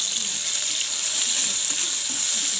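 Onion sizzles in hot oil in a home kitchen while a simple shev bhaji is being cooked, giving a steady, bright frying hiss that stays close and even throughout with no talking.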